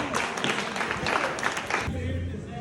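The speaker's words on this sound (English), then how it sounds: "Give them a round of applause." Applause for three winners at a gathering at Amanah Resort in Karangager, Indonesia, a dense steady clatter of many hands that cuts off near the end, leaving a low hum.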